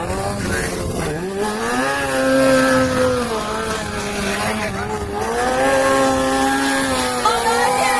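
Stunt motorcycle engine revving and holding steady pitch during wheelies and stoppie-style stands at a live stunt show, loud and continuous with rising and falling throttle, a voice faintly under the engine.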